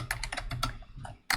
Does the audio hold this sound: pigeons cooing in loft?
no